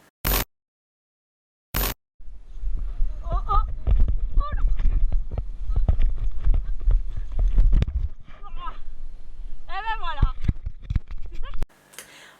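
Hooves of a five-year-old Icelandic horse clip-clop at a steady rhythm during a ride, close and fairly loud, with people talking over the hoofbeats.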